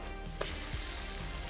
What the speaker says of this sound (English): Hear the butter sizzle?